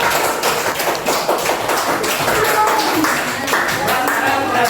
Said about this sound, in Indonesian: kita beri tepuk tangan untuk kelompoknya